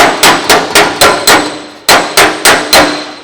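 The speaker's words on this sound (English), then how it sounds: "you could get in there with a hammer and dolly" Sharp hammer-and-dolly blows ring on red-hot steel of a 1934 Ford Coupe Ute fender, eight evenly spaced strikes in two groups of four, each clang decaying quickly, close and loud.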